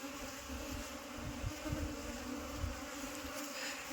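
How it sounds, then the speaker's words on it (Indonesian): Aggressive Apis cerana bees swarm around their queen, a dense, close buzzing drone with a few louder passes near the microphone. "Kita mau turun dulu karena lebahnya sangat agresif"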